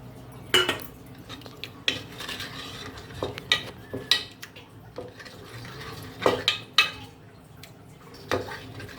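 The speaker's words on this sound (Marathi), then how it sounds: "आता आपली डाळ शिजवून झालेली आहे थोडीशी गोतून घेऊया" Cooked dal being mashed and stirred in a metal pot with salt, turmeric, garlic and tomato, giving repeated scraping strokes and sharp spoon clinks against the rim, close and alone.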